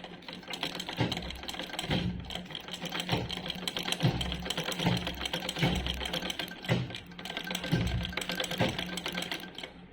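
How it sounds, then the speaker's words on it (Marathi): Household sewing machine stitching a dress top at home, running in steady repeated bursts with rhythmic mechanical clatter at moderate loudness, no talking. "चला तर आपण हा पण शिवून घेणार आहे"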